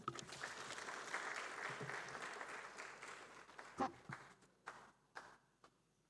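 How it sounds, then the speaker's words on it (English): A colloquium audience at a publishing studies department's 40th anniversary event applauds the Pro-Vice Chancellor. The clapping is faint and distant, thins out into scattered claps, and ends with a few isolated knocks and footstep-like sounds. "Another round of applause for our Pro-Vice Chancellor, Professor David Asamoah"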